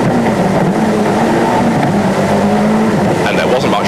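A Group-A Ford Escort RS Cosworth rally car racing on a twisty tarmac stage on Gran Canaria, its engine loud and close in a steady, rising roar with shifting pitch as it powers through bends.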